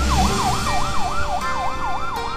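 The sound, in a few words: ambulance siren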